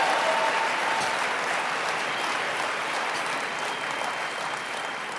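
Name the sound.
audience applause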